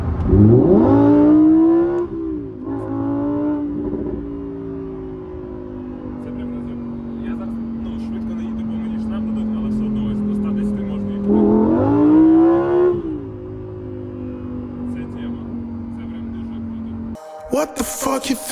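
A Lamborghini in sport mode revs hard twice, with a long rumbling idle between the bursts, loud and close, while someone talks over it.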